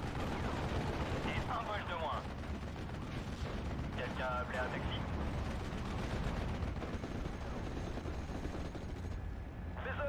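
Artillery shells and gunfire in a Steel Division: Normandy 44 battle on Omaha, a dense, continuous rumble of distant bursts and booms lasting throughout, with a voice briefly speaking underneath.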